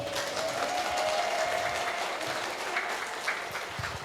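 Parents applaud a kindergarten children's drama about the Prophet Musa at TKIT Al Irsyad Al Islamiyyah in Bandung, a soft, steady clapping of a modest crowd in a reverberant hall, with faint voices and a brief tone mixed in.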